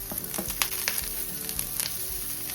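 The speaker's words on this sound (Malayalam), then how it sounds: "കുറച്ച് വെളിച്ചെണ്ണ ഒഴിക്കാം. തേങ്ങ ഇടാം. നമ്മുടെ കുഞ്ഞുള്ളി എല്ലാം നമുക്ക് ചേർക്കാം." Grated coconut and small shallots fry in hot coconut oil for a Kerala clam theeyal curry, a steady close sizzle with crackling pops throughout and no talking.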